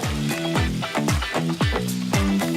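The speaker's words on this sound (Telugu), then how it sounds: "ఇప్పుడు బిర్యానీలో ఫ్రైడ్ ఆనియన్స్ ఎలా వేగుతాయో అలా వేగాలి" Thinly sliced onions frying in oil for street-style egg bhurji, a close, busy sizzle broken by repeated rhythmic scraping and clanking strokes of a spatula against the pan, several per second, with no voices.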